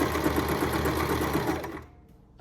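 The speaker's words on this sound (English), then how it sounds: "Now to sew, you have to step on the foot presser." A sewing machine stitches in a fast, even mechanical whir, close and steady, then stops abruptly near the end with a short click.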